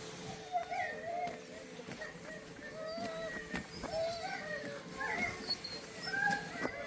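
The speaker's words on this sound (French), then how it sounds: "C'est l'heure du départ, les chiens sont excités." Excited sled dogs yip, whine and bark before setting off, several animals calling in overlapping bursts at middling distance over outdoor noise.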